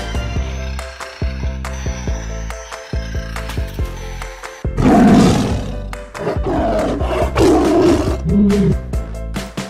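A tiger roars in a loud, rough burst of several seconds, following a stretch of toy music with clicking and sharp plastic knocks, and the roar is then repeated in similar growling waves.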